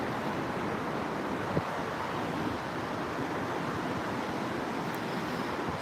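Ocean waves break at Kirra beach with a steady, continuous wash of surf and rumbling water, heard alone without talk and mixed with some wind noise.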